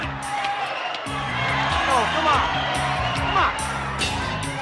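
Crowd at a fight cheering, whooping and shouting in the background while a voice urges someone on over music, the crowd noise rising and staying lively throughout.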